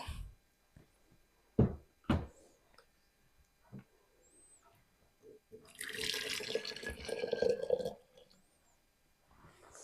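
Hot water poured for marshmallow root tea, a steady liquid rush lasting about two seconds near the middle, preceded by a few sharp knocks and clinks of kitchen handling, close by with no talk.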